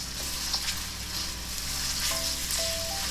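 Garlic cloves, about six of them, sizzling and frying over high heat in a pan for chicken and pork adobo, a steady close crackle with no talking.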